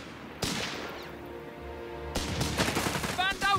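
Heavy machine gun fire in Company of Heroes 3, a sharp burst of gunfire followed by dense rattling volleys and battle noise, with soldiers' voices shouting over the shooting.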